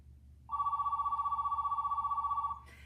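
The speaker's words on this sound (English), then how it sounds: "he calls her on a corded princess phone" A corded princess telephone rings in one long, loud electronic trill with a fast, pulsing warble, sounding clearly for about two seconds before cutting off.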